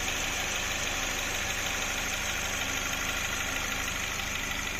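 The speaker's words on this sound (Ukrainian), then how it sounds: "І ось так у нас працює двигун. Стійко, ніяких сторонніх шумів, звуків немає." Idle of a VW Golf GTI 2.0 TSI petrol engine in a repair workshop, a steady, even hum with a constant mechanical whir that holds level and close for the whole stretch, with no talk over it.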